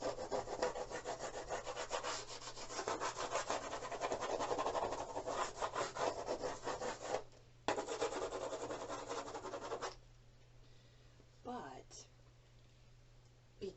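Charcoal stick rubbing and scratching across a cardboard box in close, rapid strokes, breaking off briefly then resuming before fading to a quieter stretch.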